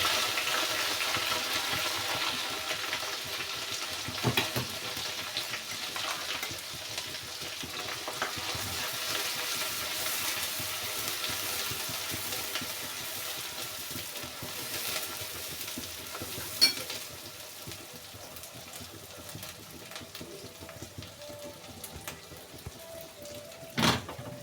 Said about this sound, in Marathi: तेल तापलेलं आहे, मसाला छान तेलामध्ये परतून घ्यायचा।